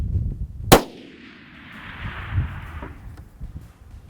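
A single sharp Gunwerks rifle shot fired at a springbok, loud and close, followed by a long rolling echo that fades over a few seconds outdoors.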